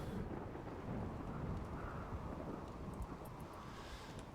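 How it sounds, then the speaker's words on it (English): Steady rainfall with a deep thunder rumble and wind in a RimWorld game storm, continuous and fairly soft throughout, with no voices. "Okay, now it's raining."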